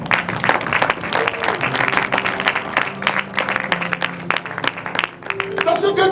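A church congregation at a sermon applauds and cheers for Jesus, with sustained loud clapping and crowd voices, while a voice carries on over the noise throughout.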